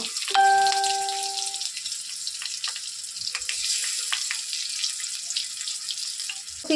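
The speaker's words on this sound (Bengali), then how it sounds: "এখন এগুলি ফুলকপিগুলো ভেজে নেব" Cauliflower fritters (fulkopir bora) frying in hot oil, a steady, close sizzle and crackle with a brief tonal beep near the start, no talking.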